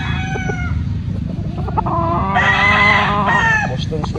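A Boston gamefowl rooster clucks and crows up close, its calls standing out over a noisy outdoor background as a voice speaks faintly now and then.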